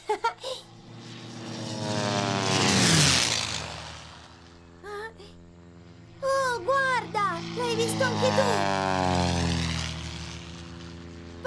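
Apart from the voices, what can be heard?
propeller airplane flying overhead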